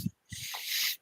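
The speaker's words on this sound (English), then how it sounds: "So I'm gonna have to spray that in my hand." Short hiss of fragrance sprayed onto a hand from a perfume bottle, one sustained burst of close spray after a couple of faint taps or handling sounds.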